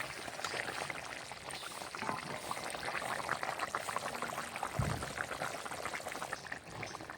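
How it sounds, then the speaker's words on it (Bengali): Fish curry with potato and cauliflower boils in a pot, a soft continuous bubbling and gentle simmering hiss heard close and low, without talk. "দেখো ঝোলটা ফুটে উঠেছে"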